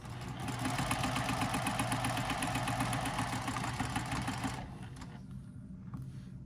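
A sewing machine stitches a triangular pyramid wristlet pouch, a steady fast mechanical whir and needle chatter running close for about four and a half seconds, then stopping into quiet handling noise.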